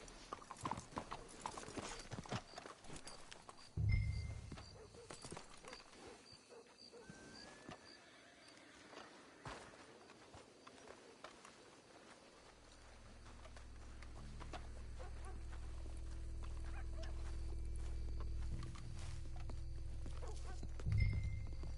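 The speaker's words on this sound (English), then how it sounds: "Let's hitch the horses up ahead." Horses clip-clop along at a walk in Red Dead Redemption 2, a steady close hoof rhythm with an occasional whinny, later joined by a low rumbling ambience.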